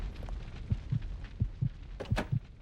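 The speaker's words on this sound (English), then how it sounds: "Heartbeats." A heartbeat sound effect in a video game, heard as three steady double thumps, low and soft but distinct, with a faint higher whoosh near the end.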